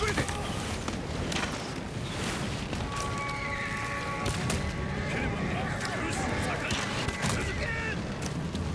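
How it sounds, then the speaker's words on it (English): Horses whinny and their hooves clatter in the video game Ghost of Tsushima during a scene aboard a ship. Shrill neighs rise over dense wind and battle noise, with voices also present. "Oh, the horses."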